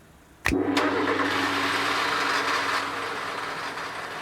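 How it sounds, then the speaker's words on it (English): A car engine is started: a sharp crank burst, then the motor catches and settles into a loud steady idle that eases slightly toward the end. "Harry, could you start the engine, please"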